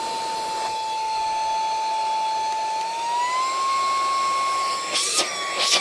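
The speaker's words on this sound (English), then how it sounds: "it's sucking in the air from the back here, which makes sense because this would be the vacuum piece" A handheld vacuum sucks in air with a loud, steady, high motor whine that rises a little in pitch partway through, followed by a couple of brief bumps and rustles near the end.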